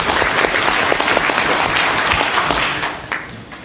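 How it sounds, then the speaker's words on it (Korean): A seminar audience on Korean real estate finance gives a loud, sustained round of applause for a member of the national assembly, thick continuous clapping that fades slightly near the end. "다시 한번 정두원 의원님께 박수 부탁드리겠습니다"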